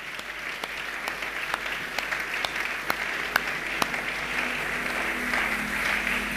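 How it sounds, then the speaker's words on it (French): A church congregation at a Sunday service applauds steadily, with sustained clapping from many hands filling the room and a few sharper individual claps standing out, and no voices on top. "Est-ce qu'on peut encore une fois acclamer le Seigneur?"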